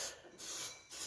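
Cleaner sprayed onto the piston of a seized motor that sat unused for ten years: three short hissing aerosol bursts, close and quiet, with brief gaps between them.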